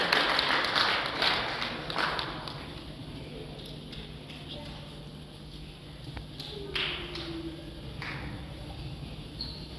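A Pentecostal church congregation in Cape Town claps for baptized young people, with a scatter of hand claps at the start that thin out beneath ongoing talk.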